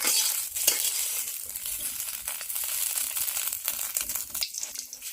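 Fish frying in a pan of oil for a curry, a steady close sizzle and crackle with faint stirring and crinkling, running under light background movement.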